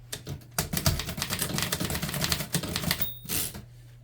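Fast typing on a Remington Model 5 portable typewriter, a dense run of sharp key strikes with a pause and then a carriage-bell ding near the end, close and clear.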